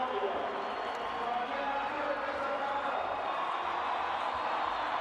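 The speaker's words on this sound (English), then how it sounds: "Listen to the crowd in the background." A large crowd roars and cheers at a velodrome track cycling World Cup event in Cali, Colombia, a continuous wash of distant crowd noise beneath a commentator's voice.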